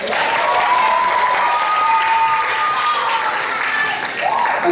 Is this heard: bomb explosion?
no